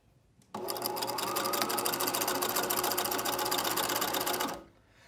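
A sewing machine runs in one continuous burst of rapid, even stitching for about four seconds, stitching folded elastic onto fabric for period underwear, close and steady before stopping abruptly.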